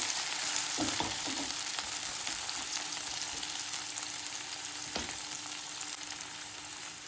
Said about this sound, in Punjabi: ਆਲੂ ਨੂੰ ਅਸੀਂ ਥੋੜਾ ਜਿਹਾ ਪਹਿਲਾਂ ਪਾ ਕੇ ਇਹਨਾਂ ਨੂੰ ਭੁੰਨ ਲੈਣਾ ਹੈ